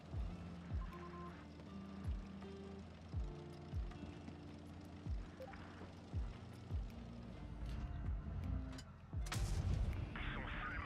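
Tank cannon fire in World of Tanks Blitz, several heavy booming shots at regular intervals, moderately loud, over a continuous engine rumble, with a louder burst of noise near the end.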